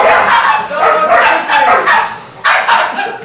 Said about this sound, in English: Okay, dogs, calm down. Calm down, dog.